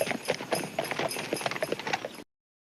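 Rhythmic clip-clop of horse hooves at a steady walking pace, close and clear, stopping abruptly near the end.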